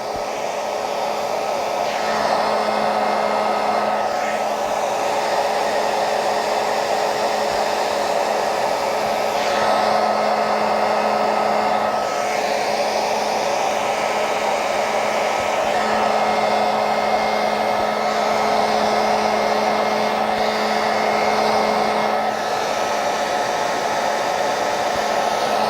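A heat gun blows hot air in a steady, loud, continuous whoosh with a faint tonal hum, running alone without pauses for the whole stretch.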